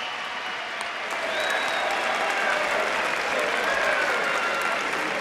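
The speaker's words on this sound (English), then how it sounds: "Ladies and gentlemen, let's get a nice round of applause out there for both of these warriors." At the Copper Box, a boxing crowd applauds both fighters after a twelve-round bout, a broad, steady wash of clapping that holds at an even level throughout, with faint voices mixed into the crowd.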